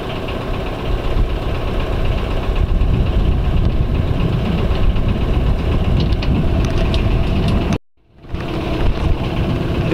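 A loud boat engine drones steadily in Maine waters with a knocking, throbbing low rumble, cutting out briefly near the end before resuming.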